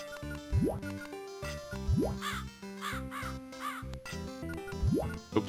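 Synthesized crow caws from a SNES video game ring out over layered chiptune music, each caw a rising swoop repeated at intervals, with brighter warbling bird calls between them.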